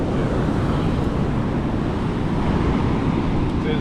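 Ocean surf rolls in at a Salt Creek shoreline, a continuous loud wash of breaking water roughened by strong wind noise on the microphone, with no distinct gaps.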